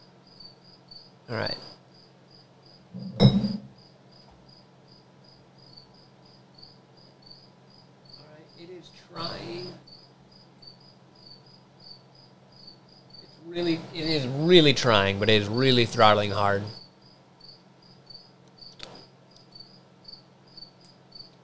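Crickets chirp steadily in a fast, even pulse throughout, with someone talking in bursts over them and a few other short noises.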